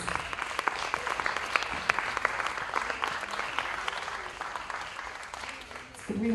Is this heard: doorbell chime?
no